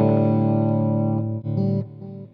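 A clean electric guitar tone through a BluGuitar AMP1 amplifier rings out in sustained, full chords that shift once or twice and fill the sound on their own, with no talking.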